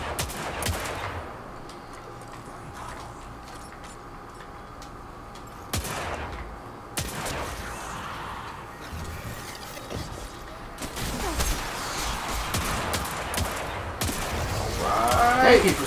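Gunfire in the sci-fi shooter game Destiny 2: Forsaken, with scattered shots and short bursts, mechanical clacks and an intensifying volley near the end over a steady game background.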